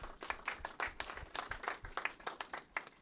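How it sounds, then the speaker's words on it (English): An audience applauds a football club, Hope International FC, at its anniversary media launch, with a steady spatter of hand claps of moderate loudness filling the space and no voices on top. "I think they deserve a round of applause for this"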